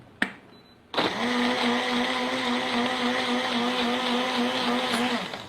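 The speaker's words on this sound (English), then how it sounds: "you need a good blender for this. Otherwise, you're gonna ruin it with the ice." After a short knock, a blender starts and runs loud and steady, crushing ice for margaritas with a high whirring drone that holds for several seconds before cutting off.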